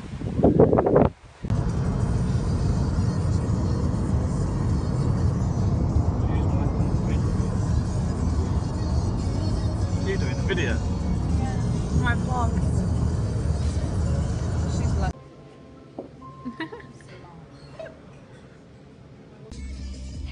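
Steady broadband rumble and road noise fill a moving car's interior for about fifteen seconds, then drop away to a quieter cabin with faint scattered sounds.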